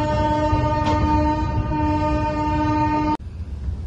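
The Coromandel Express passenger train pulls out of Shalimar with a loud, sustained horn blast over the close rumble of the cars. The horn cuts off sharply near the end, leaving the rolling noise.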